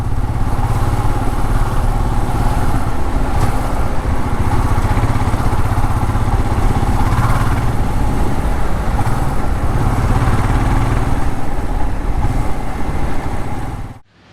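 A Royal Enfield Scram 411 motorcycle ridden on an uneven road, its single-cylinder engine a loud, steady rumble with road and wind noise throughout, cutting off at the very end.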